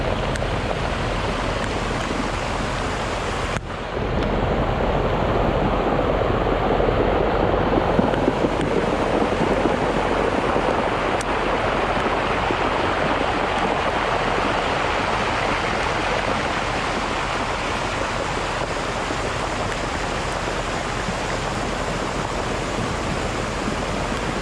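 Floodwater rushes through a normally dry canal in Southern California, a steady, dense roar continuing without pause, broadband and close, with no voices.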